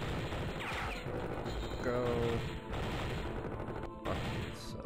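Dense, loud gunfire fills a shoot-out video game about shooting terrorists, with continuous bursts and crashes over game noise while a voice speaks briefly.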